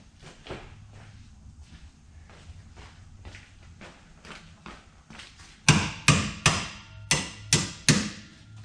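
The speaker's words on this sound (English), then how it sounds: "Hammer!" Sharp metal hammer strikes on slightly rusty parts while fitting new shock absorbers to a vehicle, about eight in quick succession, loud and close, following softer tapping and shuffling.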